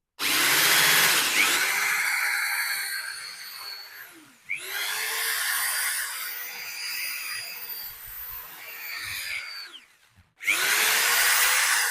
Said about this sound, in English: I reckon I can probably bore this out a bit with the belt sander